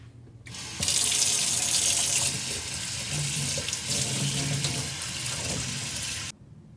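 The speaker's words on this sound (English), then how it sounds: "I'm going to use the colander to rinse the rice before cooking" A kitchen tap runs hard over rice in a colander, a loud, close, continuous rush of water with shifting splashes as the grains are rinsed before cooking, then the flow cuts off abruptly.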